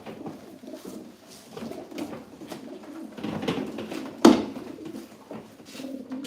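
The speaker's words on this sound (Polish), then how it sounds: "Piękne gołębie" Soft, low cooing of racing pigeons repeats nearby, with light rustling and a brief clatter partway through.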